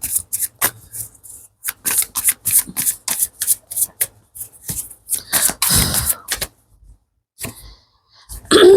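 Tarot cards being shuffled by hand, close and crisp: rapid bursts of riffling and slapping that come in uneven clusters, with a brief pause near the end.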